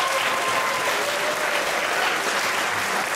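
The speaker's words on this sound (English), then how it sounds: "Round of applause for the 10 nominees." Steady, dense applause from an awards-night audience clapping for ten radio station nominees at a hospital radio awards ceremony, loud and sustained throughout without a break.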